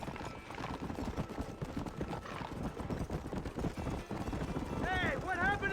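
Horses gallop with a rapid, steady clip-clop of hooves in the video game Red Dead Redemption, voices talking over the hoofbeats and a horse whinnying near the end.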